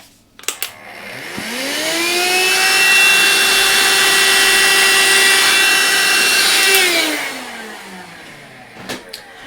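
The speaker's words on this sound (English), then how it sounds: "Just let me get my vacuum cleaner out." A vacuum cleaner whirs up to a steady, loud drone, runs for several seconds, then winds down, with a few clicks before and after.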